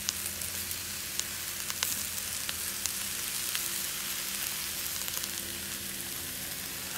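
Beef with chicken powder seasoning stir-frying in a pan, a continuous moderate sizzle with scattered crackles and occasional light stirring clicks, no voices.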